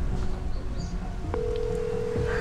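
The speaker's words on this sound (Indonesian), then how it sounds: "gue mau nelfon Bu Rosa" A mobile phone dialing, with a steady beeping tone that rises partway through and then holds, over a constant background rush.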